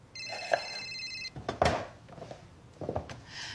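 A telephone rings with a bright electronic trill for about a second, followed by a few thumps and clunks nearby as the handset is picked up, fairly quiet indoors.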